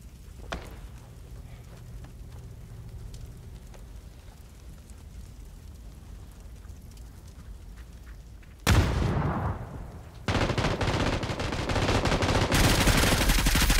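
Gunfire from enemy players in PUBG: a quiet stretch of faint ambient ticks, then a sudden loud burst of shots, a short lull, and sustained heavy rapid fire to the end.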